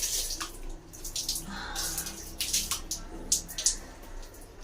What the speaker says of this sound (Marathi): चला मी अशी तोंडावर पाणी मारून घेते